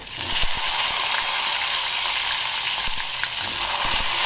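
Chopped eggplant fries in a pan with ginger-garlic paste for Khandeshi dal vangi, a loud, continuous close sizzle broken by occasional light knocks and scrapes of stirring.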